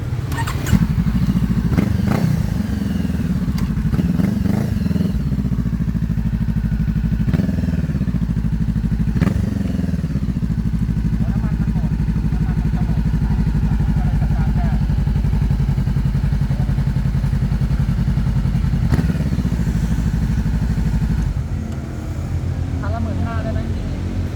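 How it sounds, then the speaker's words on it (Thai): A big bike motorcycle engine idles steadily and loud at close range for the whole stretch, with small knocks and clatter on top and people talking over it. "มันคือบิ๊กไบค์ คือรถบิ๊กไบค์นะครับ"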